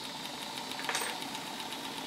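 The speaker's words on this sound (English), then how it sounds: "I'm quite pleased with the way the engine's performing." A Stuart model steam engine runs on low-pressure steam, about 20 psi, fed from a boiler. It gives a faint, rapid, even knocking rhythm with no voices over it.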